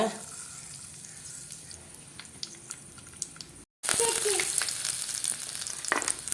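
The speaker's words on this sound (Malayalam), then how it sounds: "ഉലുവ ഇടുക" Fenugreek seeds fry in coconut oil for a mackerel curry with a quiet sizzle, then after a brief cut the frying turns louder and more crackly, with stirring.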